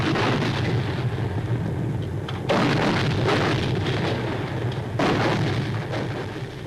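Explosions from 13th Air Force Liberator bombers striking the beaches and town of Tarakan, Borneo, in 1945: a dense, continuous rumble of blasts with heavier bursts swelling in at intervals, loud and sustained, with no voices.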